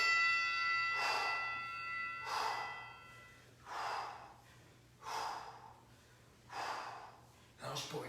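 Forceful exhaled breaths during a hockey training workout, five or six bursts in a steady rhythm about 1.4 seconds apart, close and fairly loud over a faint hum.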